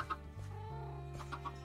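A chicken in the video game Minecraft gives a few quick clucks, close and moderately loud over a steady low background hum.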